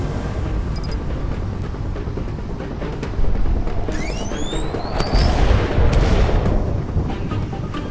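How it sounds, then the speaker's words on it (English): Loud, dense gunfire and heavy booms in the video game Project Wingman roll on continuously, with whistling streaks passing overhead amid a constant roar of battle noise. "Gunfire!"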